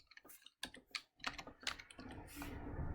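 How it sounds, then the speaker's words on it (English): Quiet, irregular clatter of keys on a computer keyboard as an answer to a calculus homework problem is typed in, short bursts separated by brief pauses. "And now I'm gonna type this answer."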